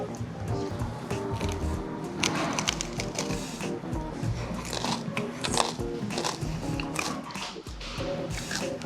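Crunchy bites and chewing of a Vietnamese street-food taco with carrots and meat, close and repeated over several seconds with faint background noise.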